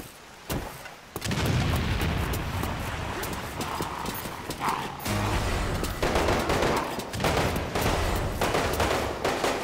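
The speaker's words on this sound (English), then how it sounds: "It's an assault rifle." Assault rifle fire rattles in Resident Evil: Umbrella Corps as repeated sharp shots in uneven bursts through most of the clip, mixed with game noise, while a player talks over it.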